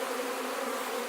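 Honey bees buzzing at an opened hive, a steady, even drone of many insects close by with no voices over it.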